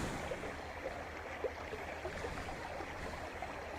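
A river rushes steadily nearby, a dense, even broadband roar of flowing water with no distinct splashes, heard alone throughout.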